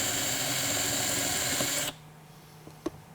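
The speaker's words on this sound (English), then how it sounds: "Start in the middle of the rivet, nice and slow." Power drill boring slowly into the centre of a rivet on a Wilson Case shipping case latch, a steady whirring grind that stops abruptly, followed by a couple of small clicks in quiet.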